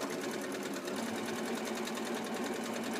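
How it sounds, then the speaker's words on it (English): A sewing machine stitches a shorts hem, a rapid, even mechanical chatter that runs close and steady without pause and without any talking. "I'm going to go forwards and back stitch."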